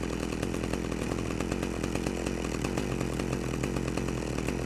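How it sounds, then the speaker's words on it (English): Chainsaw in the video game Manhunt runs continuously, a loud close buzzing rasp with a fast rattling texture throughout, no talking heard. "How do you do an execution with the chainsaw?"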